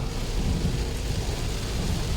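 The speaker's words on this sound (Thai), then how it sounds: "โอ้โหฝนตกหนักเลย ครับทุกคนฝนตกหนักวันนี้" A heavy downpour roars steadily as a dense hiss of rain on surfaces, with a deep thunder rumble running low underneath, continuous and without voices.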